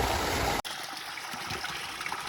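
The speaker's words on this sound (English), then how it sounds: "I love the sound of water splashing on the farm" Water splashes and trickles steadily into a small rock pool on a farm, a close, continuous rushing patter that changes character abruptly after the first half second and then runs on evenly.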